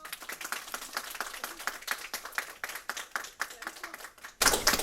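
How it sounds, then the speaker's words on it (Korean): Audience applause welcoming a university politics professor to a seminar on electoral systems: dense, sustained clapping from a room of people, steady for several seconds and swelling louder near the end. "박수로 맞아주세요"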